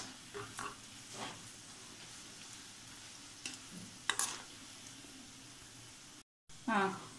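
Mushroom pakoda bubbling and sizzling in hot oil, a steady close crackle with occasional stirring clinks, while someone talks over it and a short pause breaks the sound near the end.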